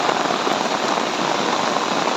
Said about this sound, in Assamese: বৰষুণৰ দৃশ্য কালিৰ পৰা দি আছে নেৰানেপেৰা বৰষুণ